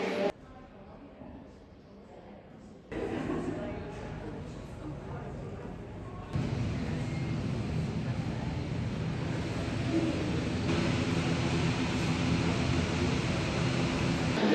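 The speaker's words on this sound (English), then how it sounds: "the plane's just landed" Loud, steady roar of a nearby landing airplane's engine, growing heavier partway through, with muffled voices under it.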